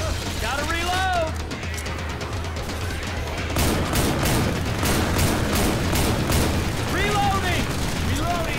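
Rapid automatic gunfire in the zombie shooter Left 4 Dead 2, loud and continuous bursts of shots with game voices calling out over the clatter.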